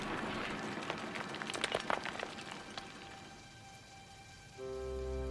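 Rain falling in an animated children's railway show, a soft patter of drops with a few sharper splashes, fading quieter before a steady hum comes in near the end.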